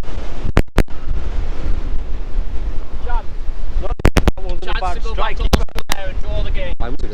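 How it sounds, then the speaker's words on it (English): Strong wind buffets the microphone on a golf course, a loud steady roar with sharp gust bursts, while someone talks through parts of it. "This wind is incredible."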